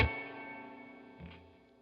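A guitar delay pedal with reverb turned up feeds back into itself. A faint note sounds, trails off in a long, smeared echo, then a softer repeat rises briefly and fades out.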